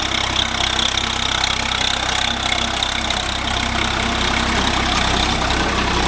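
A Swaraj 855 FE tractor runs steadily with a rotavator in a coconut grove, its loud, close engine drone holding an even, continuous rumble throughout with no voices.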